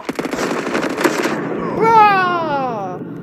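Call of Duty gunfire crackles in rapid automatic bursts for over a second, then fades as an excited young voice talks loudly over the game.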